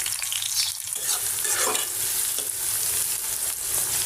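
Onions, cardamom, cinnamon and bay leaves sizzle steadily in a pan, a continuous close frying hiss with occasional stirring scrapes, no voices.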